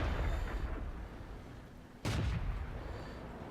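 A single heavy cannon shot from a tank in World of Tanks lands as a loud sudden boom partway through, after a low rumbling battlefield bed, with the blast tailing off into a rolling decay.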